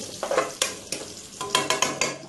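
Garlic fries in a pan for adobong tangkong and is stirred repeatedly. A steady close sizzle runs under quick scraping stirs that come in a regular rhythm. No one speaks.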